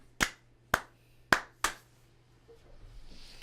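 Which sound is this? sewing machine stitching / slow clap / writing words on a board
slow clap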